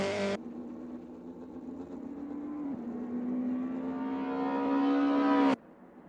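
Race cars run flat out up a wooden hill section toward a chicane at Thruxton in a sim racing game, a steady loud engine drone with pitch rising as it climbs, one brief dip mid-run, then cutting off sharply near the end.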